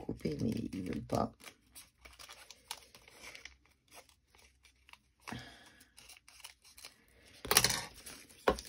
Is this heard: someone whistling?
no